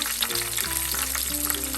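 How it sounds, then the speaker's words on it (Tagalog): Maya-maya (red snapper) fish fries in a pan until golden brown, producing a dense, constant close-up sizzle and crackle with no voices. "ito-fry natin siya until mag-golden brown"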